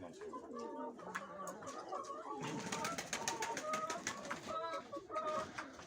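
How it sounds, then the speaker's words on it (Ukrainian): Pigeons coo repeatedly at close range in soft, throaty phrases, with other birds clucking now and then in the background. "Це її голуб."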